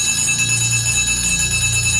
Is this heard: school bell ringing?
yes